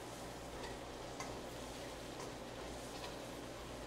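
Pieces of food cooking through on both sides in a pan over low heat make a steady, soft sizzle, with a few faint ticks and clinks scattered through the continuous hiss.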